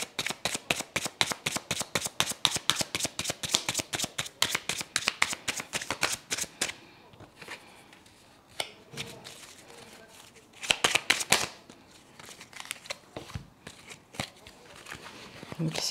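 Tarot cards being shuffled, handled and laid out, a dense run of crisp flicking riffles for the first seven seconds, then sparser card snaps and slides, with a few more quick bursts of shuffling near the end; no talking.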